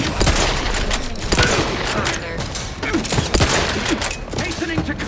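Grenade blast and rapid gunfire in The Outer Worlds 2 combat: a loud burst of sharp cracks and thuds repeating quickly, close and busy, with a voice calling out in the game.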